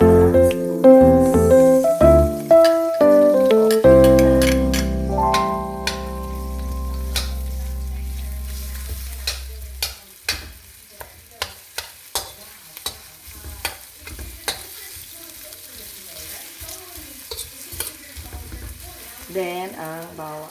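Chopped onion for pancit bato hits a hot pan and fries with a soft steady sizzle, punctuated by a run of sharp spatula clacks against the pan in the second half, with some tonal sound near the start and no talking.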